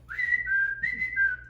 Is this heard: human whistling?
yes